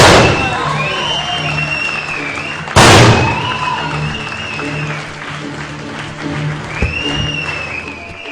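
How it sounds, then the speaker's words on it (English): Parents and students at a school science event break into clapping, with a sharp thump near the start of the applause, which then continues steadily under a talking voice. "Big round of applause for them."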